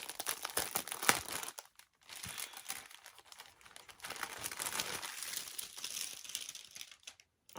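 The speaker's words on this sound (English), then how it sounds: "Just bear with me as I unwrap it here." Crinkly packaging being unwrapped up close, with irregular rustling and crackling bursts that pause briefly and resume, fairly soft and alone without talk.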